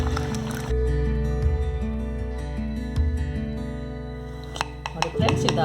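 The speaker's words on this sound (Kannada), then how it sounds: "ಇನ್ನೊಂದು 2 ನಿಮಿಷ ಆಡ್ಸೋಣ" Cream from pure cow's milk being churned into butter at home, with cold water added, gives a steady, loud mechanical whirring and sloshing that runs without a break, with a few soft knocks near the end.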